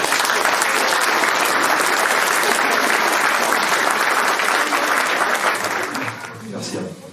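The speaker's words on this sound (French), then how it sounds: "Un applaudissement pour tous les présidents d'associations." Sustained, dense applause for association presidents at a mayor's New Year address in a small French village fills the room, then tapers off in the last second.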